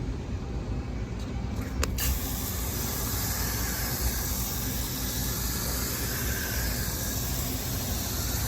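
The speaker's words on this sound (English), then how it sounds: "This is a foaming cleaner, so the longer it sits there, it's going to froth up and it's going to push the debris out from inside the coil." Foaming cleaner sprayed onto a walk-in cooler coil, a steady broad hiss lasting throughout, with a couple of brief clicks near the start and constant background machinery noise.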